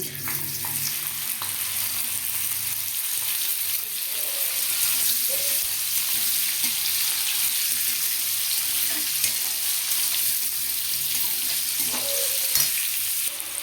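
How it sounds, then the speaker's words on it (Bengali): Parboiled cauliflower florets fry in hot refined oil in a kadai, giving a loud, continuous sizzle with faint stirring scrapes throughout, no voices. "এবার হালকা সেদ্ধ করে রাখা ফুলকপিগুলো ভেজে নেব।"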